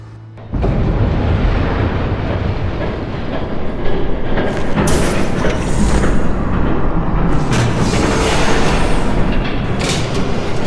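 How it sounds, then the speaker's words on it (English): A train rumbles past loudly and steadily in Batman: The Telltale Series, a dense continuous roar with rattling wheel clatter that swells in bursts over about ten seconds, with no talk. "There's a train coming."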